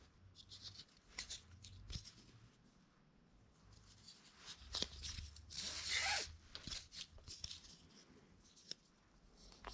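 Scissors cutting through a piece of material during a leaf blower repair, giving a few short rough snipping and rubbing sounds, close and fairly quiet, with a louder burst in the middle.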